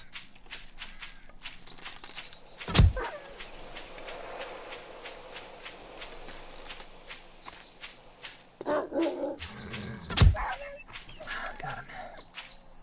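In the video game 7 Days to Die, a dog gives a couple of loud, sharp barks spaced several seconds apart over a steady run of rapid clicking footsteps.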